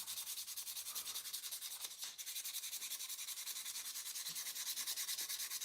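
Hand sanding a tobacco pipe, quiet rhythmic back-and-forth scratching strokes repeating steadily at close range, with no talking.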